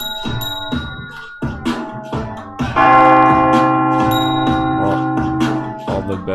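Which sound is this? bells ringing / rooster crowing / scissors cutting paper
bells ringing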